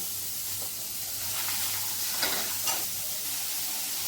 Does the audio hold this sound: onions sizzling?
yes